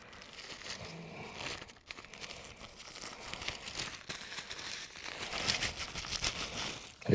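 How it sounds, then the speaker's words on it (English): Plastic bag holding tent poles for a cot tent being handled, giving a steady stretch of soft crinkling and rustling with small crackles, close by, with a louder thump right at the end. "You see, still in a plastic bag."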